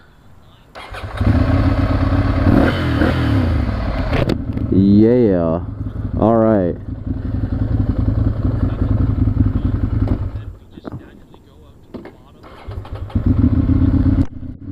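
A Ducati Monster motorcycle engine starts and idles loudly, with several sharp revs climbing and falling in pitch, and someone speaks briefly between them.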